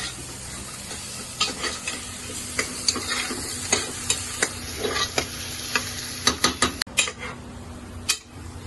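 Eggs and tomato frying in a pan, a steady sizzle under repeated sharp clicks and scrapes of a utensil stirring against the pan, with a cluster of quick knocks near the end.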